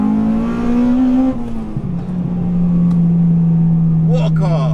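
Inside a 200 brake horsepower Honda Civic Type R on the move, a steady engine drone holds while the car drives along, with brief shifts in pitch and a short burst of nearby speech near the end.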